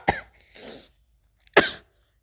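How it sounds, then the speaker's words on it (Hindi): A woman coughs suddenly in the middle of the night: a sharp cough, a softer breathy rasp, then one more sharp cough after a brief pause, close and alone. "वो उसे एकदम से खांसी होने लगती है आधी रात को।"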